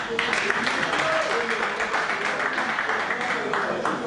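An audience at a community event in Angola gives a round of applause, a continuous crowded patter of clapping lasting several seconds, with voices mixed in underneath.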